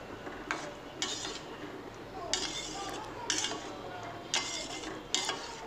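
Boiled masoor dal is mixed with ridge gourd in a pan, with a spoon scraping and knocking against the metal in a run of distinct strokes over a soft background murmur.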